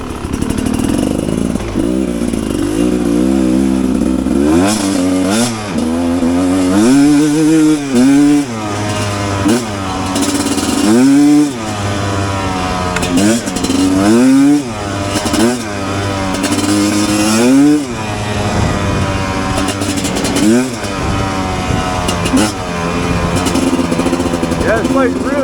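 Rieju Ranger 300 motorcycle fitted with an FMF Gnarly exhaust, revving hard and loud close by in repeated rising and falling bursts of throttle, with a rider's voice heard briefly over the engine.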